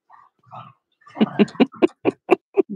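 Dogs roughhouse at home, a few soft low grumbles giving way to a quick series of sharp, close yips and barks in a steady rhythm, with no talking.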